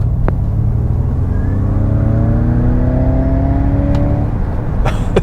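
A 2021 Ford Mustang Mach-E GT electric car accelerates hard, with a steady rising electric whine over a low road rumble. The sound is close and continuous, with faint clicks near the end.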